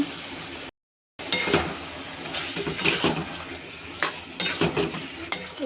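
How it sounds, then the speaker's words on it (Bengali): Marinated mutton, coated in yogurt and mustard oil, fries and is stirred in a pan, with a steady sizzle broken by scraping spoon strokes and a brief silent gap near the start. "ম্যারিনেট করা মাংসটা দিয়ে দেব শুধু দই আর সর্ষে তেল দিয়ে ম্যারিনেট করে রেখেছিলাম"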